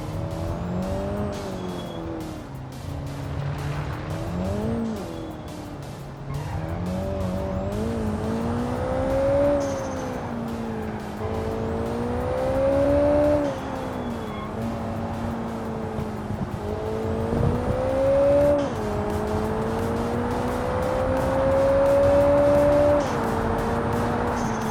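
A car in the BeamNG driving game brakes and corners, its engine note climbing and dipping in smooth waves while tires squeal and skid through turns, loud and continuous for the whole stretch with no voices.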